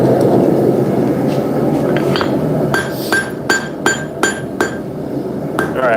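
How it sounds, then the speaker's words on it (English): A power hammer forges hot steel on its bottom die at a smith's forge, a rapid series of about seven ringing metallic blows after a few seconds of low shop rumble. "bottom die on the power hammer here."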